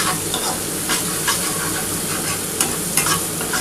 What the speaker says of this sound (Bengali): পেঁয়াজটা কিন্তু ভেজে নিচ্ছি ভালোভাবে।